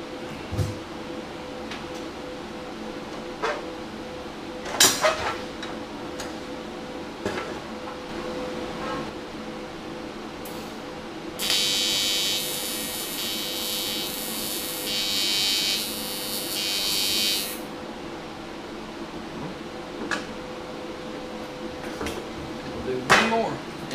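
Console parts for a custom build are tack welded: a steady electric welding buzz lasts about six seconds mid-clip. Sparse clanks and handling knocks come before and after it over a low background hum.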